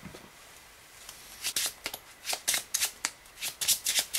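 Playing cards dealt and drawn one by one in a tabletop card game, a string of crisp, close card snaps and slides growing busier after a quiet start.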